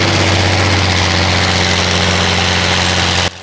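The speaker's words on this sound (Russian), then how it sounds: "вы только послушайте лязг гусениц и рёв двигателя." A Soviet T-10 heavy tank runs its engine up close, giving a loud, steady, deep droning rumble with a constant low vibration that cuts off abruptly at the very end.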